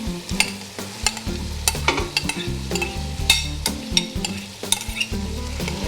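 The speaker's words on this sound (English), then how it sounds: "Give them a good stir." Mushrooms and onions, already cooked, stirred in a pan for vegetable beef soup: a utensil scrapes and clinks in an uneven rhythm over a steady sizzle, close and fairly loud, with no talking.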